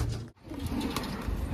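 Green dobaaz pigeons from a home collection coo softly and continuously at close range, a low murmuring sound with a brief dip near the start and no voices over it.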